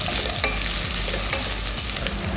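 Celery sticks sizzle and fry in hot oil in a pot alongside meat bones, with steady crackling and occasional stirring scrapes, loud and close, no voices.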